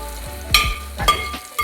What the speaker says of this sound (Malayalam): ഇനി ഇതിലേക്ക് കരിവേപ്പില ഇട്ട് കൊടുക്കുക